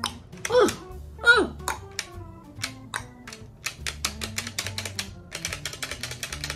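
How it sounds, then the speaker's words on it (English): A Nerf Stryfe blaster's rev trigger clicks again and again up close, a run of sharp, crisp clicks that grows quicker toward the end, with a person speaking over the first part. "The rev trigger, oh, it's so good. Oh, it's clicky, like it just goes, and just clicks right in."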